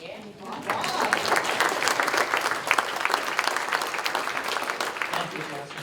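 A forum audience breaks into applause, a dense, fairly close wash of clapping that builds quickly and holds steady, with a voice briefly heard over it.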